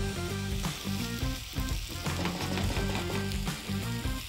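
Chicken frying in a pan gives a steady, close sizzle that runs the whole time, with a tonal musical background underneath.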